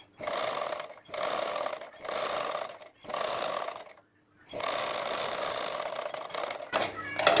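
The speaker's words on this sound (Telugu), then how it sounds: "మిడిల్లో పెట్టుకొని ఫస్ట్ ఈ సైడ్ అయితే వేసుకుందాం కుట్టు" A sewing machine stitches a blouse seam in several loud, steady whirring bursts of about a second each, with short pauses in between, then a longer final run.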